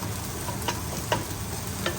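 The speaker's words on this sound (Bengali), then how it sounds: "তো পেঁয়াজটাকে হালকা একটু ভাজা ভাজা করবো" Onion frying lightly in a pan in a home kitchen, a steady soft sizzle with a few brief stirring scrapes, close and alone with no talk.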